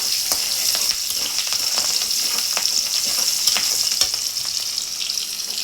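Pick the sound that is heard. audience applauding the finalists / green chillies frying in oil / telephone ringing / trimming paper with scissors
green chillies frying in oil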